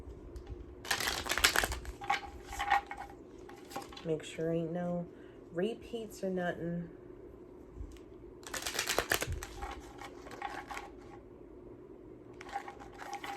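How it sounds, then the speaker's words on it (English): Tarot cards being shuffled by hand come through as bursts of dry riffling and flicking, with a speaking voice between and over them. "I just like to shuffle your cards"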